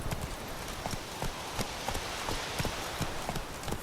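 Roach the horse trots in The Witcher 3, with steady, evenly spaced hoof clip-clops repeating throughout at a moderate pace, clear and fairly close over a soft ambient bed.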